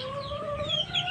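Chickens clucking in a garden, a short run of close, tonal clucks and calls with a slightly rising, drawn-out vocal quality.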